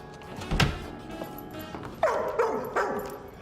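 A dog on a leash gives several sharp yips and barks, clustered toward the end, fairly close and alone, with a few softer rustles in between.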